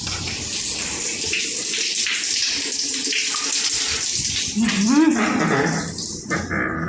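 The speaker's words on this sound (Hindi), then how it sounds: "अरे बाप रे, बाथरूम में पानी भर गया, बंद करके आऊँ।" Tap water gushes steadily into a bucket in a bathroom, a continuous splashing rush with a brief dog-like yelp or voice sound near the end.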